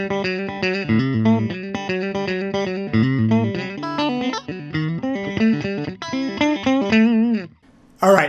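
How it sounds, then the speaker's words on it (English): Electric guitar on its middle pickup setting with a bright, twangy Telecaster-like tone, playing a steady run of strummed chords through effects, loud and close, with a brief pause near the end. "let's move the pickup selector up to the middle now, and now I have this other sound that's very much like a Telecaster"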